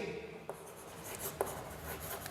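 Marker or chalk writing a chemistry question on a board in a lecture room, faint scratchy strokes with two sharp taps, no talking.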